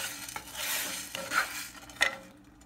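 Coriander seeds dry roasted in a pan while being stirred, giving a soft scraping rustle with a few sharp clinks of the spoon against the metal, close and quiet with no talk.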